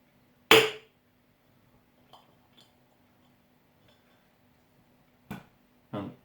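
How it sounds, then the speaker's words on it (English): A bottle of Brauerei Endres Zum Goldenen Adler Ungespundetes Lager is opened with one sharp pop-like crack, then a few faint clinks and two more short knocks in a quiet room. "We open it right now,"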